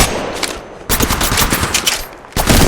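Rapid automatic gunfire in the mobile shooter game Apex Legends Mobile, dense loud bursts of shots broken by brief pauses, close and punchy, with no audible speech.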